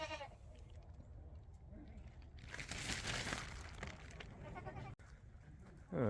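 Goats bleat on a farm kept for showing, several wavering calls rising over a steady outdoor background with some rustling, fairly near and without anyone talking.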